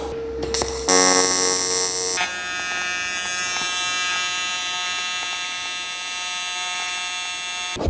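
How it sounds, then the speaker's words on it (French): Aluminium pieces are welded together, with a sharp electrical crackle and loud buzz at the start, then a steady, harsh, tonal buzzing hum that carries on close by without talk. "je dois d'abord souder les deux ensemble"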